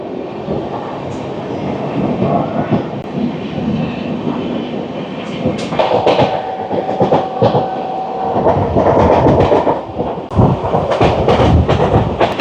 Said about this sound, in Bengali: খুব স্পিডে যাচ্ছে আমাদের ট্রেন,